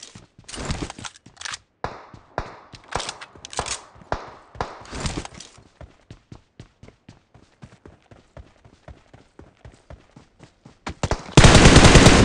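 Rapid gunfire from a mobile battle royale game played on an iPad 9, sharp bursts of shots at first, then a long steady rattle of single shots, ending in a loud sustained blast of noise.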